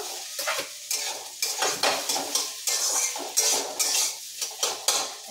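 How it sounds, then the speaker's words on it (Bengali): Prawns frying in a pan while a utensil stirs them, with rhythmic scraping and clattering strokes over a busy sizzle, close and fairly loud, without any talk. "আমি এবার চিংড়ি মাছটা দিয়ে দেবো।"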